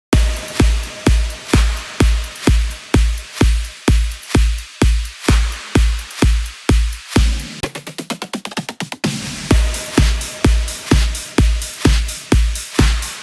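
A punchy NCS-style electronic drum loop with steady kicks and hi-hats in a driving rhythm, broken by a quick rolling fill before the beat resumes.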